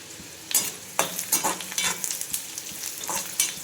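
Chopped onions with turmeric frying in a pan for a summer vegetable dish, a steady close sizzle broken by repeated scraping stirs of a spoon at an irregular rhythm, with no voices.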